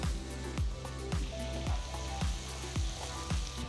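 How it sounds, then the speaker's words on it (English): Finely chopped onion sautés in melted unsalted butter in a pan, giving a steady close sizzle with a regular rhythmic scrape of stirring about every half second and no talking. "Saute the onions for about 2 minutes"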